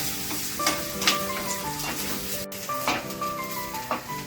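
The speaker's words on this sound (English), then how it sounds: "So I've been frying this onion and the coconut for about 2 minutes" Onion and coconut frying in a pan over a medium-to-high flame for a crab curry, a steady close sizzle with soft stirring scrapes and clinks of the spatula throughout.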